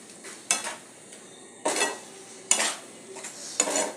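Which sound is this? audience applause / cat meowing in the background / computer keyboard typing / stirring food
stirring food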